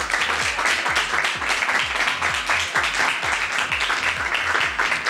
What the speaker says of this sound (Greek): ένα θερμό χειροκρότημα για τα παιδιά